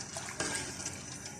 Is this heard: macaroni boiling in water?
yes